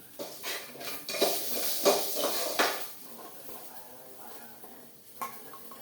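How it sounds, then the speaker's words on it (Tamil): Shallots sautéing in a pan, a spoon scraping and clinking against the metal in bursts of stirring over a soft sizzle, then quieter frying with an occasional knock. "கொஞ்சமாக சின்ன வெங்காயம் வதக்கலாங்க"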